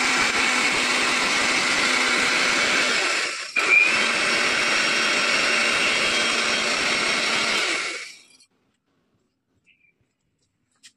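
An electric mixer grinder grinding spice paste, a loud continuous whirring roar that briefly dips once midway and then stops, leaving near silence.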